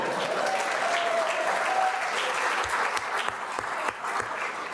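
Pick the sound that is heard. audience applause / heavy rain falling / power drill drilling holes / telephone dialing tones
audience applause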